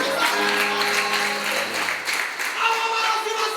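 A church congregation at a worship service in Mozambique bursts into sustained, dense applause for God, steady and loud throughout, with faint voices and musical tones sounding beneath the clapping.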